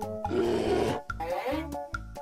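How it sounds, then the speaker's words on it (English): A bear growls in a run of low, throaty grunting roars, close and loud, with a few separate bursts broken by short pauses. "Bear."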